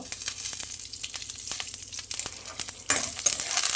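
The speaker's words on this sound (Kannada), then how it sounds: "ಶೇಂಗಾ ಚೆನ್ನಾಗಿ ಫ್ರೈ ಆಗಬೇಕು" Peanuts frying in ghee for a curry-leaf tempering for ghee poha give a soft, close sizzle with light stirring clicks, swelling louder toward the end.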